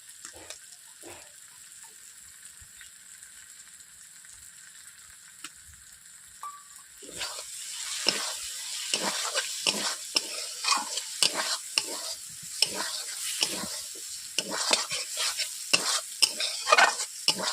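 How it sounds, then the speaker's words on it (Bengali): Poppy seed paste frying in a pan for a Bengali prawn malai curry: a quiet, steady sizzle at first, then repeated close scraping stirs over louder, continuous frying. "পোস্ত দেওয়ার পরে এইভাবে আমি একটু হালকা করে নেড়ে নিচ্ছি।"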